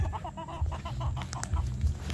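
Roosters on a gamefowl farm cluck and call repeatedly, moderately close, with overlapping short bursts and a low background hum and no talking.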